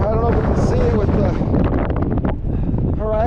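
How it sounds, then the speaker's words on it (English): Strong gusting wind batters the microphone on the summit of Mt Monadnock, a loud continuous roar with rustling buffets that nearly swamps a voice talking underneath. "The summit is windy"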